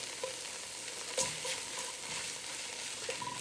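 Onions fry in a pan just deglazed with a splash of liquid, giving a soft, steady sizzle broken by occasional scrapes and clinks of a utensil stirring them together.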